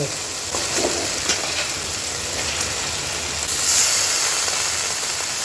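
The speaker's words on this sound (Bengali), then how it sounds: "এখন দিয়ে দিব ধুয়ে রাখা মাংস।" Washed chicken meat dropped into fried spices cooking with pumpkin: a steady close-up sizzle with scattered stirring knocks, the hiss swelling louder toward the end.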